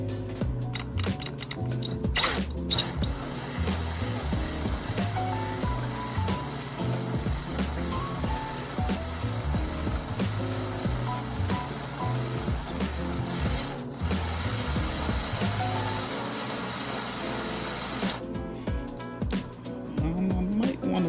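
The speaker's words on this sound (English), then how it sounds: "is to drill, baby, drill, without damaging the motor" A drill grinds steadily at a stuck pinion gear on a motor, a continuous whining, rattling mechanical drone with a high steady tone, close, broken by a brief pause and a change of pitch near the end.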